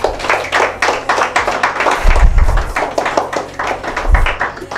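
A small group of people claps at a flower delivery surprise in Hincesti, Moldova, close and loud, with distinct individual hand claps in an uneven rhythm and a few heavier thumps mixed in.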